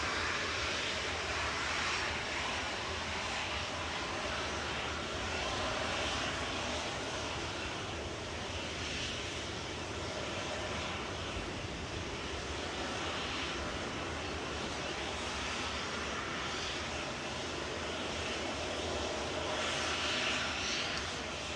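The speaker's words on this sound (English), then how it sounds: "Lining up from Victor Bravo now is Ryanair 54762 Verona 9H QDS" Ryanair Boeing 737-800 lining up on the runway at Manchester Airport, a steady moderate jet engine rumble and hiss, continuous and fairly distant with no talking.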